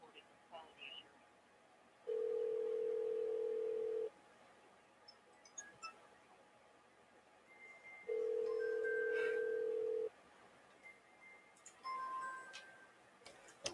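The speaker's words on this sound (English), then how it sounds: "That was my phone ringing." A phone rings with two long steady electronic tones, each lasting about two seconds and separated by a gap, followed by a shorter fainter tone, with scattered soft clicks in between.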